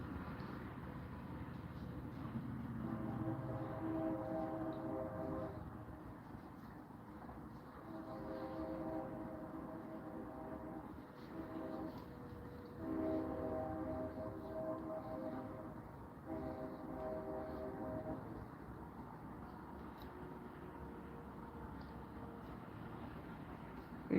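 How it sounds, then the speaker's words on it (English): A distant train passing, a low steady rumble swelling and fading in long waves with faint tonal horn-like bands, heard far off in the background. "now you can hear the train."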